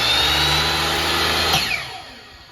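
A chop saw motor runs at full speed as a loud, steady high whine, then winds down near the end.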